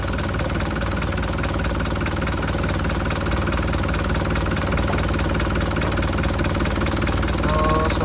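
An Isuzu 4HL1 diesel engine idles steadily and evenly, a close, continuous low mechanical clatter with a constant rhythm and no revving.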